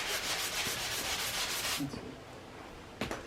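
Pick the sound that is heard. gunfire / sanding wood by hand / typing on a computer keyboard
sanding wood by hand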